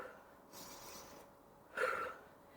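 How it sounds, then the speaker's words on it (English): A person in a Pilates class breathes slowly and steadily while exercising, with a few soft, airy breaths; the last is a slightly stronger exhale. All are faint and close, and no one speaks. "Remember your breathing, controlled, smooth motions."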